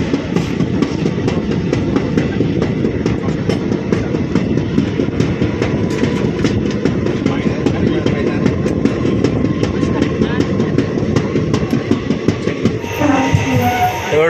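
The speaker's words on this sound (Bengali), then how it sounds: "ট্রেন ছেড়ে দিয়েছে, 2 মিনিটের স্টপেজ ছিল" A 12311 Netaji Express train pulls out of Firozabad station, heard from on board as a steady, loud rumble with rhythmic wheel clatter that runs the whole time. The sound shifts near the end.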